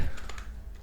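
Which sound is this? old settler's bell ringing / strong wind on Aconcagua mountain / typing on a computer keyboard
typing on a computer keyboard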